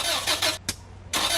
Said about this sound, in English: That's the sound of your car about to cost you a lot of money.